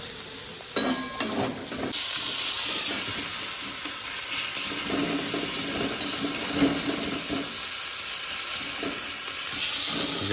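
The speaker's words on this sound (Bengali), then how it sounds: "মা এখন রান্না করছে।" Pointed gourd and shrimp frying in a pan, giving a steady close sizzle that lasts throughout, with occasional clatters of stirring at the start and no voices.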